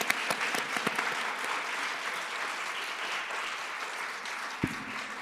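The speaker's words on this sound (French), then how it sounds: "Je pense qu'on va encore une fois les applaudir." Audience applause after a conference on Islamophobia, a steady wash of many hands clapping with a few distinct nearby claps early on and a brief low thump near the end.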